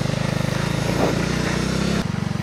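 A motorcycle engine drones steadily as the bike skids and fishtails on a slippery muddy road, the motor note holding close and loud, then shifting in pitch near the end.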